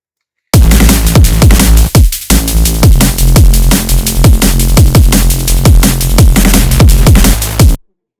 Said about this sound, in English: All the bass lines are made in Serum 2.